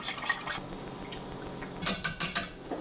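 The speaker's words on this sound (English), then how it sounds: "We're going to give our egg a quick stirring here." Beaten egg whisked in a bowl during tuna preparation, with light scraping and a quick run of clinking strokes against the bowl near the end, close and fairly quiet.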